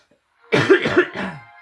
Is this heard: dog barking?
no